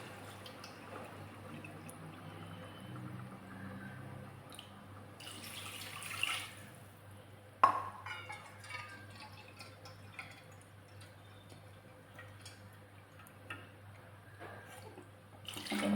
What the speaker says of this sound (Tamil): கிளாஸ் ரெண்டு தண்ணி ஊற்றிக்கோங்க